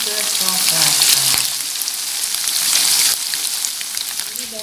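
Tempeh frying in hot oil gives a loud, dense crackling sizzle up close, steady throughout with a few small pops and no voices.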